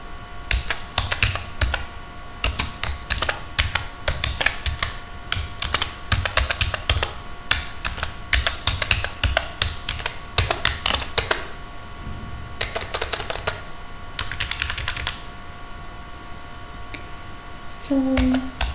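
Code is typed on a computer keyboard in quick, uneven bursts of close key clicks and taps, broken by short pauses, with a faint steady electrical hum underneath.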